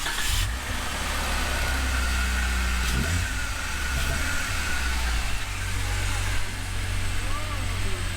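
A car engine fitted with a K&N cold air intake revs and idles continuously close by, its pitch rising and falling, while people talk over it.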